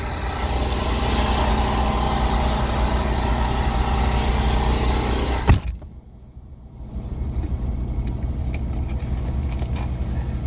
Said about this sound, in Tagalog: Grabe ang traffic, guys.